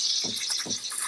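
An espresso machine steam wand hisses softly in a milk pitcher, a steady airy sizzle broken by soft low bubbling pops near the microphone.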